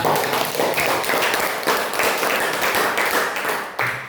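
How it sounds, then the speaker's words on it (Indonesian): Students in a classroom clap together in a steady, close burst of applause lasting a few seconds, fairly loud and dense with no speech over it. "Tepuk tangan untuk kalian semua."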